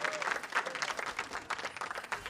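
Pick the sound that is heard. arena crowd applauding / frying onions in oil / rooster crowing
arena crowd applauding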